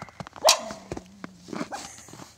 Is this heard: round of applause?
no